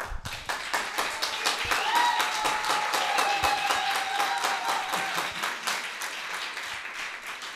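A crowd applauding at an evening launch event in Belgium gives steady, rhythmic clapping, fairly close and even, with tonal sounds briefly mixed in partway through.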